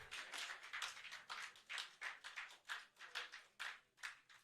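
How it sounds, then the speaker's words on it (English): Quiet, rhythmic hand clapping from a conference audience, several distinct claps in a steady pattern, faint and distant with no talk. "Please, a round of applause for him, the National Chairman of Association of Community Pharmacists."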